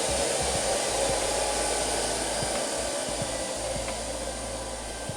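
A Hofer/Aldi robot vacuum cleaner runs its automatic cleaning cycle with a steady, even whir and hum close by, broken only by faint small clicks and bumps, with no voices.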